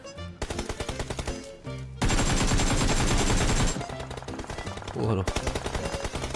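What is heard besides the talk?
gunfire in the video game PUBG Mobile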